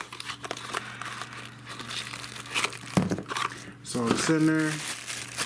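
Plastic packaging from an Apple Watch case crackles and crinkles as it is pulled open, with irregular rustles and snaps close by while someone talks briefly over the handling.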